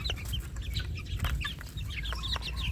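Sweater gamefowl chickens cluck softly and repeatedly while eating, a busy cluster of short close calls over low background rumble, with no voices.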